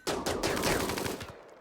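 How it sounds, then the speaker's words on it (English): Rapid bursts of automatic gunfire in the RimWorld video game, several quick volleys of sharp cracks in a fast rhythm over about a second, then cutting off abruptly into quiet. "hopefully the commotion of all the gunfire will pull the zombies that were in this cluster away"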